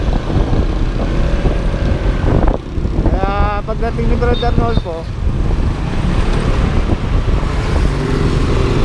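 A boat's motor hums steadily and loudly, mixed with wind rumble across the microphone, while someone talks over it and a brief voice or tone sounds in the middle.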